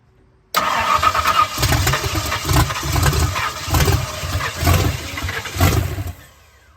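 The 5.0 engine of a 1970 Ford Falcon cranks with a rhythmic churning of about six pulses, then catches and runs briefly before cutting off, loud and close.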